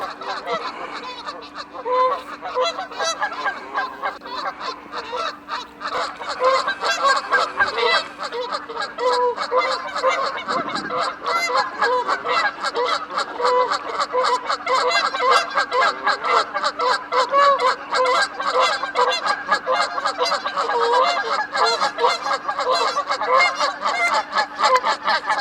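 A flock of geese honks and squabbles loudly and continuously, overlapping calls packed densely together with a faint steady hum beneath, no voices.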